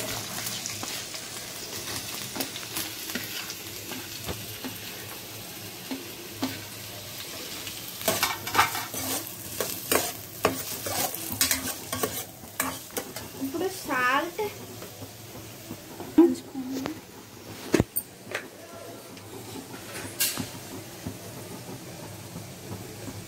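Onions, curry leaves and green chillies stirred and frying in a pan for a curry: soft steady sizzle with scraping and clinking of a spoon against the pot, under someone talking throughout and a voice.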